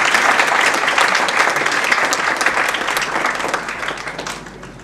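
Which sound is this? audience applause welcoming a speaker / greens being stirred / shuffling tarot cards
audience applause welcoming a speaker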